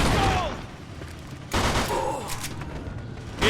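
Gunfire in a Mafia 2 video game shootout: sharp bursts of shots in a rapid volley, a lull of scattered cracks, then another loud burst, with faint voices underneath.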